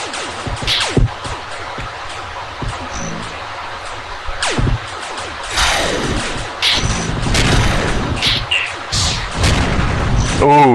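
A missile hit in a video game: a series of booming impacts and bursts, each with a rushing whoosh, scattered across the stretch, with voices talking over them.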